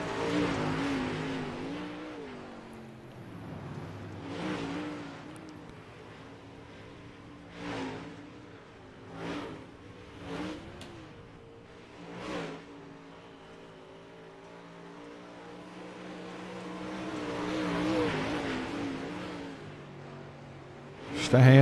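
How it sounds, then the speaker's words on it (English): Super late model race cars lap Volusia Speedway during a warm-up session, a steady engine drone rising and falling as cars sweep past in several distinct passes, with a louder approach near the end. "Just a handful of cars actually out here making laps."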